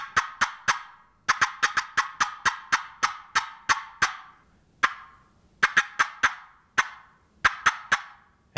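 Sharp, percussive clucks and cuts struck on a wooden turkey box call, coming in rapid bursts of three to six notes with short pauses between, loud and close.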